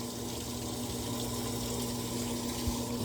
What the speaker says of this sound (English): Water's coming out.